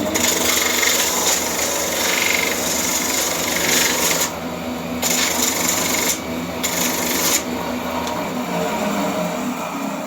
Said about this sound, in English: Back to the sanding machine